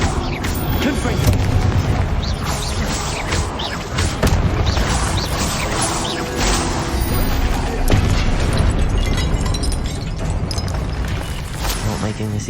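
Dense, continuous barrage of booming magical blasts and crashes from Hogwarts Legacy combat with Confringo and Expelliarmus spells, loud and close, with a voice shouting spell names over the rumbling impacts.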